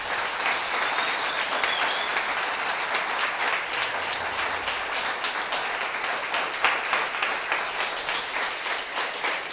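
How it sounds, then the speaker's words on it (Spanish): A church congregation applauds for the Lord after a sermon, a dense, steady wash of clapping that fills the whole stretch at fairly close range with no talk over it. "¿Por qué no le das un fuerte aplauso al Señor?"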